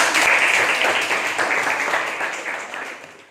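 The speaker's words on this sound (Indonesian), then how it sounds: "Oke, tepuk tangan dong buat semua." A classroom of students applauds during a civics teaching-practice lesson: dense, steady clapping that starts loud and gradually fades.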